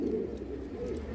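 Pigeons cooing close by in a loft, a continuous low, throaty murmur of several birds overlapping with no pauses.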